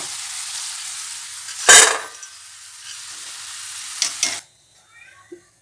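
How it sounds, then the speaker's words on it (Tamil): Pieces of elephant foot yam fry in hot oil with a steady hiss, broken by a loud scraping clatter partway through and more clanks before the sizzle cuts off near the end. "எல்லா செனக்கிழங்கும் எண்ணெயில் பொறிச்சு எடுத்துட்டேன்"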